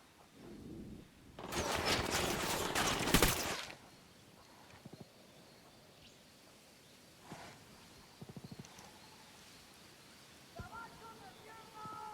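Gunfire in Ghost Recon Wildlands: a loud sustained burst of rapid shots for about two seconds, then a few scattered, fainter shots and short volleys against quiet ambience.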